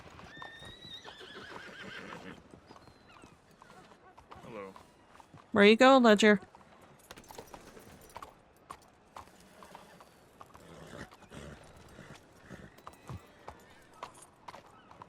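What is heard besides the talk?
horse neighing and hooves clip-clopping in video game WildRP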